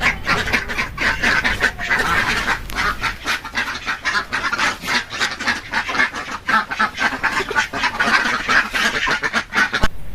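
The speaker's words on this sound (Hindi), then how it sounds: "अभी मैं आप लोगों को बतख का आवाज़ सुना देता हूँ।" A flock of ducks on a duck farm quacking continuously, a dense, loud chorus of overlapping calls with no talk.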